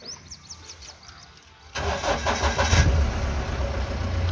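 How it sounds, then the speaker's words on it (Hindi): A Mahindra Bolero BS4 pickup engine cranks and catches after a quiet moment, then settles into a loud, close, rough idle with some revving. "मेरी गाड़ी स्टार्ट हुई है।"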